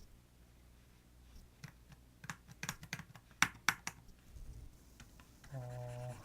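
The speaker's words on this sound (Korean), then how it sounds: "이게 눌렸구나. 컨트롤 키가." Computer keyboard keys are pressed in irregular bursts of crisp clicks and taps, some sharp and close, quiet overall, ending with a brief electronic tone.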